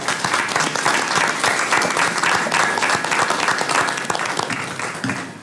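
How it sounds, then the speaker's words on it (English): A community council meeting audience claps for the council and staff team, sustained dense applause from a roomful of people at an even level throughout. "could we all join in giving the council and this team a great round of applause and thank you?"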